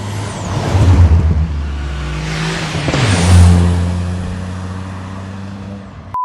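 Car with a 1-litre engine accelerating hard, its loud, close engine note rising in pitch, dropping briefly at a gear change, then climbing again.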